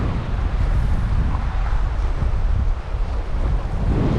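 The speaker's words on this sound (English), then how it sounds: "It's a little windy out here, so hopefully you guys can hear me" Strong wind at a South Florida fishing spot on the shore buffets the microphone in a constant loud, low roaring rumble that hardly lets up, with no voices.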